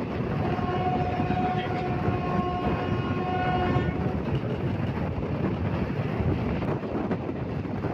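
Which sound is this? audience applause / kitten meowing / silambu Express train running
silambu Express train running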